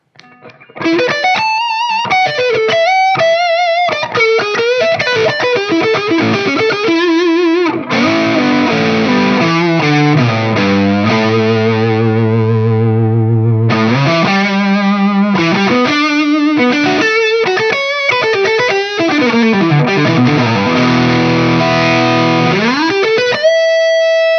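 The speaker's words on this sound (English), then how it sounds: "I'm going to add in another overdrive pedal and you'll hear how much thicker it gets now" A heavily overdriven Gibson Les Paul 60th Anniversary electric guitar through stacked overdrive pedals plays sustained chords and riffs, thick and saturated with gain, loud and continuous throughout with no talking.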